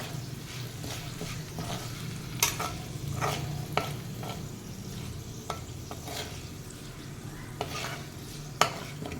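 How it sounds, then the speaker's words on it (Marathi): Chillies sautéing in a pan for a raw mango rice dish, giving a steady close sizzle with scattered stirring scrapes and a few sharp utensil clicks and taps throughout. "मिरच्या थोड्याशा परतून घेऊयात"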